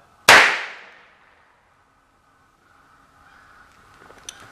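A 12 gauge perimeter alarm fires a primer with a Nerf bullet loaded, giving one sharp, loud bang that decays over about a second, followed by quiet room tone and faint rustling.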